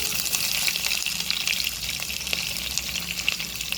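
Curry-leaf tempering with chopped bottle gourd, onion and green chilies fries in a pan, producing a continuous close hiss and crackle of sizzling oil without any talk.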